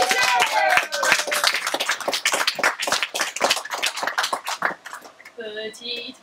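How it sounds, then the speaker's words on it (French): An audience at a Moulin Rouge cabaret show claps steadily for several seconds, a dense patter of many hands close by, with a brief sung or spoken voice at the start and a few tonal notes near the end. "Applaudissez!"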